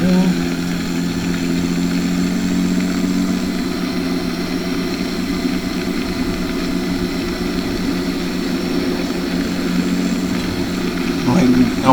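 A tractor engine runs steadily nearby at a constant idle-like drone, with a low rumble and a few harmonic hums, continuous and unchanging throughout.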